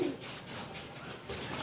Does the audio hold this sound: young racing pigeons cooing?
yes